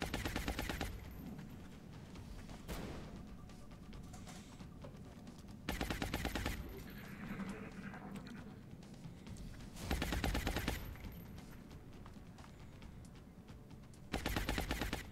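Suppressing automatic gunfire from the video game XCOM Long War crackles in repeated loud bursts, each a few seconds apart, with dense rattling weapon fire and game effects filling the gaps between them.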